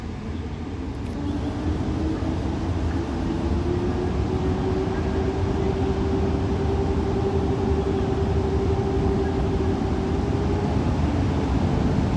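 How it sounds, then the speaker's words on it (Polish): An Intercity Artus train pulls out of a station, a loud, steady rumble with a thin motor whine running underneath throughout, close by and without talk. "Odjeżdża pociąg Intercity Artus do stacji Gdynia Główna."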